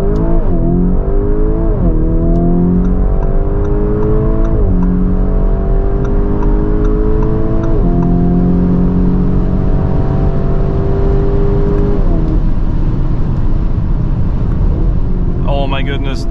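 A Lamborghini Urus Performante with 666 hp accelerates hard from 100 to 200 km/h on a slight uphill, its engine note climbing steadily through several upshifts, loud and close, with talking over it.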